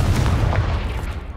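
A Confringo fire blast spell in Hogwarts Legacy goes off as a loud, dense burst with a deep booming body and a rushing fiery crackle that fills the whole moment.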